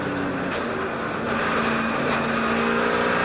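Onboard engine roar from Bill Elliott's race car during the 2002 Daytona 500, a dense steady drone at high speed, loud and continuous throughout.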